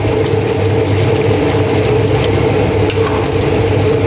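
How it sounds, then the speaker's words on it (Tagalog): Steady, close sizzling and crackling of chicken frying in a pan, continuous throughout with a low hum underneath. "Ito yung chicken. Piniprito muna."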